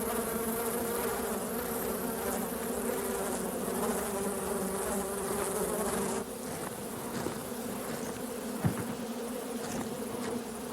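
Dense, steady buzzing of many bees at a large hive in a Louisiana swamp, a continuous close drone that drops slightly in level partway through with a brief thump near the end.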